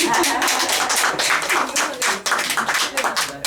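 Scattered, uneven clapping from an audience at a breakfast forum lecture, with individual claps distinct and pulsing rather than a smooth roar, and a voice mixed in.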